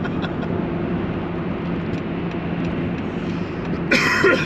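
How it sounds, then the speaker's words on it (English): A short, harsh cough bursts out near the end over a low, steady background hum of traffic, close to the microphone. "I'm getting fed up with this blooming cough."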